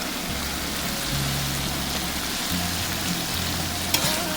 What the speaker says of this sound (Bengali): আর এখন আমি এখানে সামান্য একটু পানি অ্যাড করে দিচ্ছি, যাতে আদা রসুনের কাঁচা গন্ধটা চলে যায়